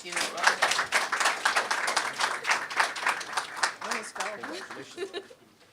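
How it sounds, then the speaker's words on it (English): An audience claps for a community speaker in Mississauga, a busy round of individual claps with a little laughter, fading out at the end. "She deserved a big hand of applause."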